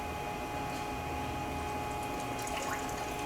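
Water pouring into the funnel and pipe of a gold mining test rig, a steady rushing flow over constant machine hum, with a few brighter splashes near the end.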